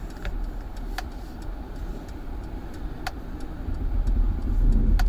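A big car drives past a tennis tournament site, its low engine rumble steady and fairly close, swelling a little louder near the end, with a few faint clicks above and no talk.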